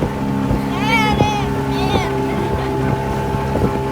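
A boat engine drones close by during a river boat ride, a steady tonal hum with soft periodic thumps and wind buffeting, while voices talk over it.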